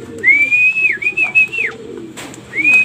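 Young racing pigeons return to a house roof after their first 3.5 km training toss, with bird calls and cooing and several high, sliding whistle-like tones rising over a low murmur of background sound.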